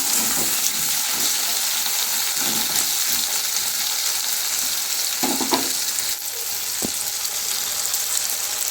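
Pumpkin pieces frying in a pan, a loud, dense, continuous sizzle close by, with a few brief stirring scrapes and clinks mixed in.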